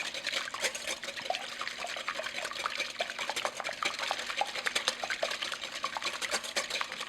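Large room-temperature eggs whisked by hand with a wire whisk in a bowl, a steady fast stream of light clicking and sloshing strokes, close and fairly quiet, with no talking.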